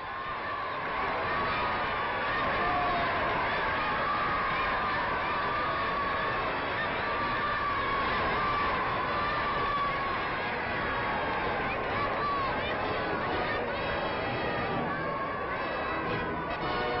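A large crowd in Algiers cheers the arrival of French President Vincent Auriol, a dense and continuous roar of voices on an old, muffled recording with shouts mixed in throughout.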